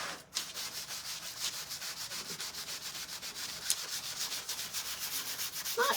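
A rough-sided tool scratches across a craft surface to add texture, producing a fast, even run of rhythmic rasping strokes, close and fairly soft, with no voices.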